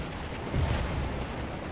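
Artillery fire in the Civil War game Scourge of War: Gettysburg: a single deep, rumbling cannon boom swells up mid-moment over a steady background roar, with no voices.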